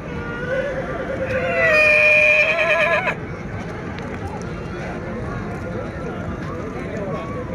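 A Marwari horse whinnies loudly at a stallion ring show in Jodhpur, a rising and falling neigh lasting about two and a half seconds over steady crowd chatter and background voices.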